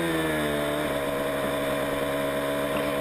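An onboard four-stroke ProtoGP racing motorcycle engine drones continuously, its harmonic whine climbing and shifting in pitch, loud and close throughout without any talking.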